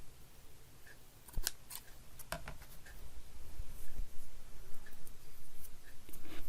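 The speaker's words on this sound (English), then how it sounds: "Let's cut the end off straight." Scissors snip the end of a lace strip straight across in a handful of sharp, close cuts with brief pauses between them, and no one speaks.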